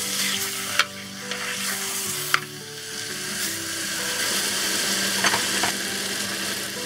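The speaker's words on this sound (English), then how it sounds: "sear the pork belly a little bit" Pork belly sears in a clay pot over medium-high heat with a continuous close sizzle. A few sharp clicks and scrapes come from stirring.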